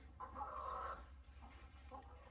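Chickens cluck softly at a farmhouse in Live Oak, Florida: one short burst of clucks near the start, then a few faint scattered clucks over a low steady hum.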